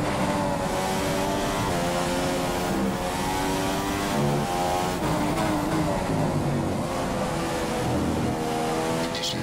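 A Formula 1 car in the F1 2015 racing game, at the Bahrain circuit, accelerates with a high, steady engine whine, its pitch rising and falling through gear shifts, loud and close throughout.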